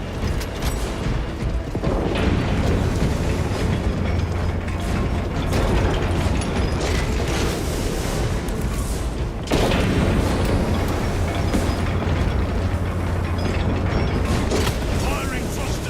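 Jump pack thrusters fire in Warhammer 40,000 Space Marine 2, a loud, steady mechanical roar that runs almost unbroken, with a short dip near the middle, amid dense game noise.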